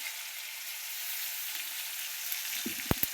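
Tomatoes fry in a pan with a steady, bright sizzle, and a few sharp knocks of a utensil come near the end.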